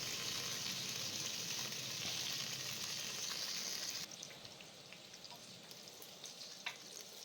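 Curry leaves fry in hot oil with fenugreek, cinnamon, cloves and cardamom for a mutton curry, making a loud, steady hiss of sizzling that abruptly softens partway through into a quieter crackle.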